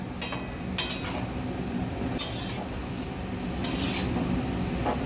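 Bottle gourd greens are stirred in a cooking pot with a metal spoon, giving a few short, separate scraping strokes against a quiet, steady background.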